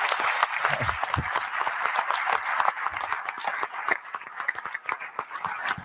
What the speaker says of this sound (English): have a big applause for Ryan and for Murtaza